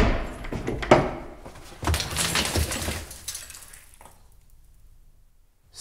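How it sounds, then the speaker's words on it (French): A door on the verge of giving way takes a run of loud knocks and rattling, clattering bangs for about three seconds, then the noise fades to near silence. "La porte va céder."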